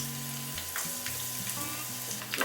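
Thick slices of garlic frying in olive oil in a pan over medium heat, giving a close, steady sizzle with small crackles throughout and no speech.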